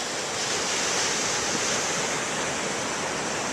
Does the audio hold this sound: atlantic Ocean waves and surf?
yes